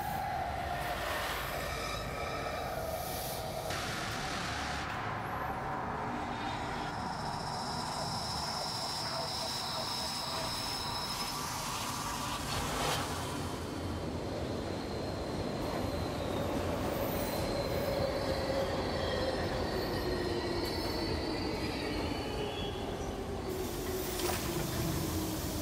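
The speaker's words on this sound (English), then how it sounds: "I just realized that we were on a train. Yeah, we're on a train." A train rolls along rails in the horror game The Outlast Trials, a steady close rumble of wheels with long metallic squeals and hiss running throughout, faint talk now and then beneath it.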